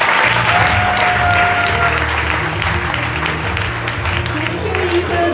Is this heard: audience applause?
yes